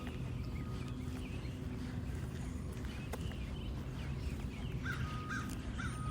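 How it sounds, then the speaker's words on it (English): Two crows cawing outdoors near a house, with several harsh calls over a constant background hum, a pair of clearer caws standing out toward the end. "The two crows just flew on the side of a house."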